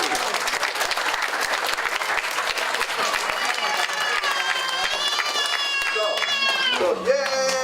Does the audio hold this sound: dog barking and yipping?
no